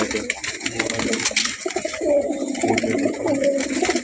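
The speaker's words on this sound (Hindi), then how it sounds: "ये देखिए कबूतर" Pigeons at a bird seller's stock coo in low, throaty bursts, several birds overlapping close by against a busy background.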